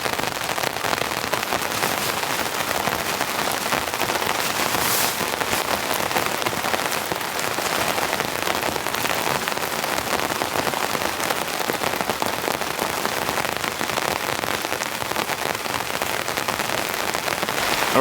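Heavy rain pouring onto a tent and tarp while camping, a loud dense continuous patter and drumming up close, with no voices.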